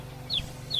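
A chicken clucks twice near a house, two short bright calls over a low steady background hum.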